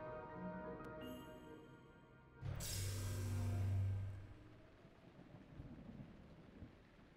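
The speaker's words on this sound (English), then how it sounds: "Man, it just all of a sudden started pouring." A sudden downpour bursts in The Legend of Zelda: Breath of the Wild in Master Mode near a tower, breaking a quiet, tonal backdrop with a loud rumbling crash that settles into steady hissing rain.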